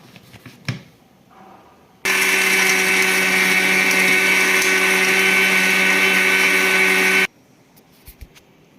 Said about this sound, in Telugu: ఓట్స్, వీటిని వేసుకొని గ్రైండ్ చేసుకుందాం.